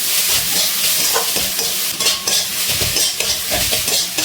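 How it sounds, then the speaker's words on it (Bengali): Chicken tossed with ground spices in a pan makes a close stirring and scraping sound over a light sizzle, with irregular clinks of a utensil. "গুঁড়ো মশলাগুলো দিয়ে এটাকে ভালো করে মিশিয়ে নিচ্ছি।"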